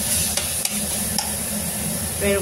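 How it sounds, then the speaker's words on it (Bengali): A frying mixture of spices, sugar and salt is stirred in a pan before banana flower is added, giving a steady close sizzle with a few sharp spoon scrapes and taps throughout. "চিনি, নুন দিয়ে ভালো করে আমি নাড়ব। এখন ভালো করে ভাজা ভাজা হয়ে এসছে।"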